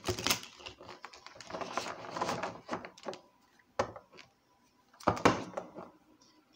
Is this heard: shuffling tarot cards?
yes